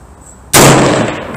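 A single sharp rifle shot from a Live Free Armory AR-10 chambered in 6.5 Creedmoor, fired at a shooting range: one loud, close crack after brief quiet, followed by a ringing, slowly fading tail.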